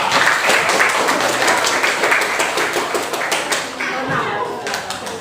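Classroom applause for a student group at a madrasah, dense steady clapping from many hands filling the room for about five seconds, close and fairly loud, with a few voices mixed in.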